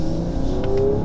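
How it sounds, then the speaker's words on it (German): Chiptuned four-door Mercedes-AMG GT 43 exhaust with particulate filter, a steady, loud, throaty drone with a rising tone near the end, heard up close with no talking. "Der Auspuffsound ist kernig, ja."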